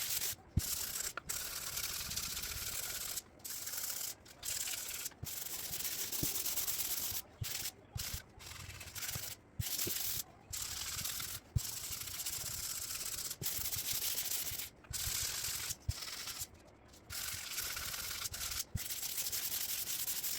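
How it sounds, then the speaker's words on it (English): Sandpaper rubs over a dry plasterboard patch of filler in short, repeated back-and-forth strokes, each broken by brief pauses, close and alone with no talk. "we're going to go ahead and sand down all the bits that are dry"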